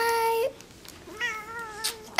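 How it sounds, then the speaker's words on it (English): A cat being held lets out groaning, drawn-out meows, with a long cry at the start followed by a quieter wavering one and a short loud yowl at the very end, all close to the microphone. "that was my cat, Midnight, and he's groaning because my step"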